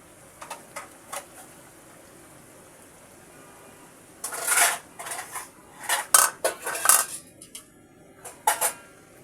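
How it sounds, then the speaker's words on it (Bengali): Rui fish curry being gently stirred in a pan, with light scattered utensil clicks at first, then a busier run of metal scraping and clinks against the pan near the middle and end, close and moderately loud. "আমি খুব আলতোভাবে হালকা নেড়ে দিচ্ছি।"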